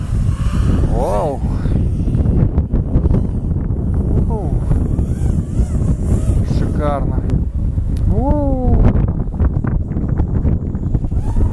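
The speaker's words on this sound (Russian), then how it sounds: "Ветер, кстати, ужасно сильный." Strong wind buffets a Sony ICD-PX333M voice recorder's microphone with a constant low roar while several people talk and exclaim over it.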